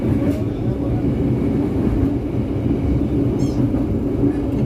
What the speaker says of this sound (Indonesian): ini adalah rangkaian kereta api Mutiara Selatan yang papasan sama Pandalungan ini